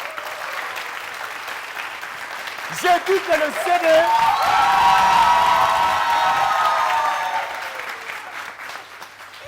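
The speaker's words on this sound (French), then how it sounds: "Merci d'applaudir Agozo pendant qu'il nous rejoint." A studio audience at a French-language TV variety show applauds and cheers as a guest named Agozo joins the stage, the clapping swelling to a loud, sustained roar after a voice speaks briefly over the start.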